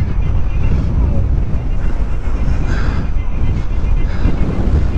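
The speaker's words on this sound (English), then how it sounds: "Whoa, this is windy." Strong wind at Brooklands roars and buffets against the microphone in a continuous, loud low rumble.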